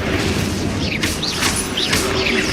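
An Incendio fire spell is cast in Hogwarts Legacy, a loud whooshing blast with rising swishes and booms layered over dense game action.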